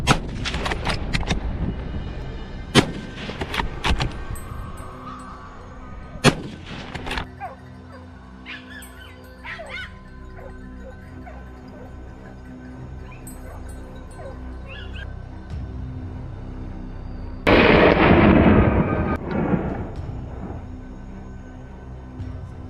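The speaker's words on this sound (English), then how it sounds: "Gunshots echoed through the forest." Gunfire during a wild boar hunt in a forest, several sharp isolated shots spaced apart, with dogs barking and yelping loudly nearby and a burst of frantic barking later on.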